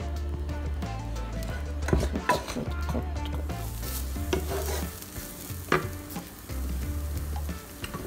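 Cauliflower rice dry frying in a pan while a utensil stirs it, with a steady low sizzle and irregular scraping strokes that recur throughout, fairly close.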